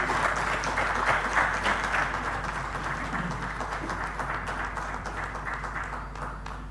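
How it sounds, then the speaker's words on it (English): Audience applause at a governance and elections forum, steady dense clapping from a sizable crowd filling the room throughout, gradually easing toward the end. "Please give him another round of applause."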